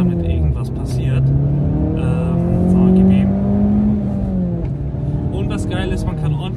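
An Italian car drives and accelerates through gear changes, its engine note rising and falling steadily and fairly close, with talk running over it throughout.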